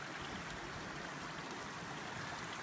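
A river at Shady Cove flows with a steady, even rushing hiss that stays constant throughout, with no voices.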